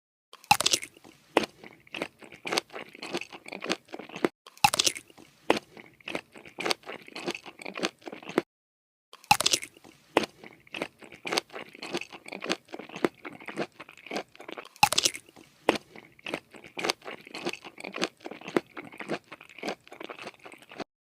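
Crispy Wendy's golden fried chicken bitten and chewed up close, loud crunchy bites repeating in bursts with brief pauses, steady mastication between them, no talking.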